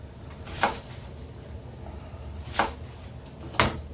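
A kitchen knife quarters vegetables for a from-scratch pasta sauce, three separate crisp chops on a board spaced apart over a quiet room background.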